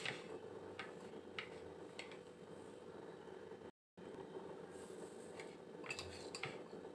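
A spoon stirs corn chaat with tomato sauce in a bowl, making faint, repeated clinks and scrapes at an uneven rhythm that are close and quiet, with a brief silent gap midway.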